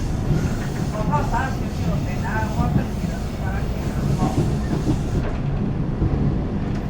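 A train runs along the Pacific coast in the Taiwanese countryside, a loud continuous rumble of wheels and carriage noise with some high squealing tones, heard from on board.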